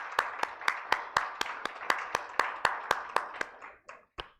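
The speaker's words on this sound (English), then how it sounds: "Let's give them a round of applause." An audience at the 2023 Forum on Internet Freedom in Africa applauds its panelists with a dense wash of clapping and sharp, evenly spaced louder claps that thin out and stop after about four seconds.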